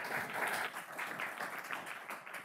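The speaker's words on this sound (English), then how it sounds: "let's give her a round of applause." A lecture audience claps in a continuous, fairly faint round of applause that holds steady throughout.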